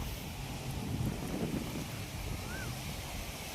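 Wind rushes steadily outdoors in a village ahead of pre-monsoon rain, a broad, even blowing with a low rumble and slight gusts throughout.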